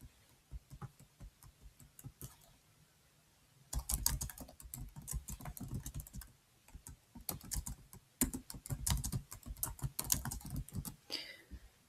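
Typing on a computer keyboard, up close: sparse keystrokes at first, then fast clattering runs of clicks with brief pauses between bursts, no voices over them.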